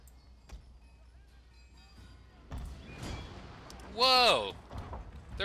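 Grenades burst in a battle in Total War: Shogun 2 Fall of the Samurai, with a couple of dull, thumping blasts over quiet battlefield ambience, followed by a loud spoken exclamation.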